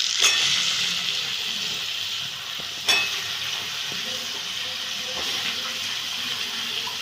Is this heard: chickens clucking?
no